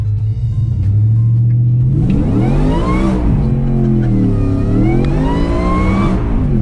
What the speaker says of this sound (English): Do you guys see the way that Speedo is climbing in a pickup truck?